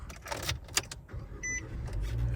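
A 2024 Nissan Versa with push-button key ignition starts up: a few soft clicks and handling noises, a short electronic chime, then the engine catches and settles into a low, steady idle nearby.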